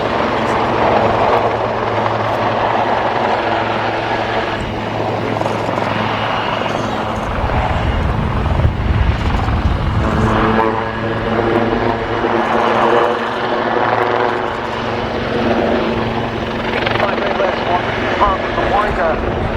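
A Royal Navy Wildcat HMA2 helicopter flies at the Cosford air show, a sustained rotor and turbine drone heard from a distance under a commentator's ongoing public-address talk.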